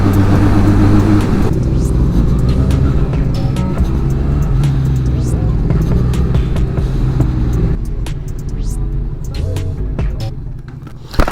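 A Benelli 502C motorcycle engine runs loud and close, a steady low throbbing drone that shifts and eases near the end, with someone speaking over it.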